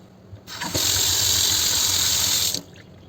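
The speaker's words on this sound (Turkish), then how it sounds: "Şimdi sıcak suyla döktüğümüz zaman borunun içi pırıl pırıl tertemiz olur." Hot water pours from a tap into a bathroom sink drain, a steady loud gushing stream that starts abruptly, runs for about two seconds, then cuts off.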